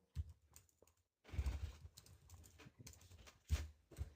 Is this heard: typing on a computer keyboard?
yes